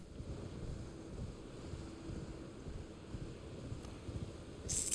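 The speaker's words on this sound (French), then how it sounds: "Avec ce vent et tout." Wind blowing through a forest area in Elden Ring, a low, steady rumbling gust that stays soft and continuous throughout, with a faint brighter rustle near the end.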